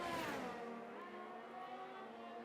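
A Ferrari Formula 1 car racing in F1 22, its high engine note rising and holding steady in a smooth sustained whine, clear and alone.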